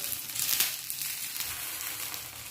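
Colocasia leaf rolls (alu vadi) shallow-fry in a spoonful of oil over medium heat, giving a soft, steady sizzle with faint crackles close by.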